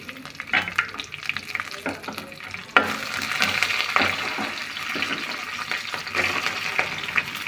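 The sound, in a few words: green chillies and vadagam frying in a pan, stirring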